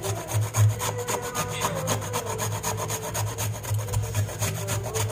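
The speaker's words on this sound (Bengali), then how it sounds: "মুলাটা আমি এইভাবে ছুলে নেব, ছুলে গেটারে ঘষে নেব" A peeled radish is rubbed against a grater in steady, rapid back-and-forth strokes, a close, continuous rasping scrape with no voices.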